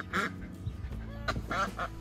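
Domestic duck quacking during breed selection, several nasal quacks in quick bursts close by and fairly quiet, with brief gaps between calls.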